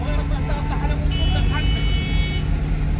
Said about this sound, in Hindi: तो ये रास्ते पे ऐसा ट्रैफिक दिख रहा है